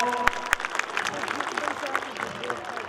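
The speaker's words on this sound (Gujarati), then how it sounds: "તાળીઓથી વધાવો" Audience applause at a Patel Pragati Mandal community function in Rajkot, a steady wash of many hands clapping throughout, with a voice talking over it.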